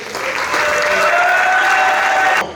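Loud, dense applause from a crowd at a French awards gathering, a steady wash of clapping that holds for a couple of seconds and then cuts off abruptly.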